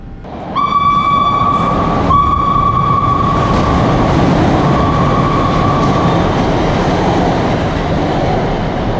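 A Chicago Blue Line subway train roars past up close, loud and continuous, with a sustained horn-like tone sounding over the rumble for the first few seconds.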